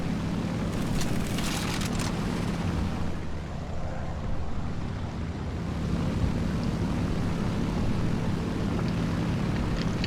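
A steady drone of an Ilyushin Il-2 ground-attack aircraft engine in flight over the Eastern Front near Khalkhyn Gol, a continuous low hum blended with rushing wind noise throughout, with no talk.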